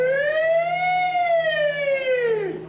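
A voice imitates a whale call with one long, rising then falling wail that is loud and close and rich in overtones, sustained for nearly three seconds with no talking over it.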